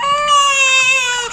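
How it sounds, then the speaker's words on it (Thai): A newborn baby cries during a bath, one sustained, high, wailing cry, loud and close, with no break in the brief stretch. "อันนี้คือเขาหนาวอะค่ะ เขาจะร้องเป็นปกติ"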